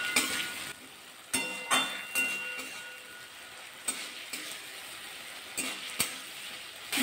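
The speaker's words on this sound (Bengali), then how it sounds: "আলু দিয়ে 2-1 মিনিট কষিয়ে নেব" Potatoes sauté with spices in a pan, a steady sizzle broken by several sharp clinks and scrapes of a utensil stirring against the pan.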